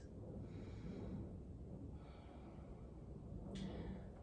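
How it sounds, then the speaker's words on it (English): During a yoga flow, slow mindful breaths come through the nose in soft, airy inhales and exhales, close and quiet, with a brief sharper sniff near the end. "Taking a couple mindful breaths."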